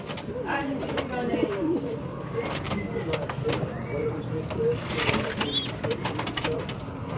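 Pigeons coo and murmur around a homemade loft trapping area built from a metal frame, their soft calls repeating steadily amid a dense bed of nearby flock rustle and background noise.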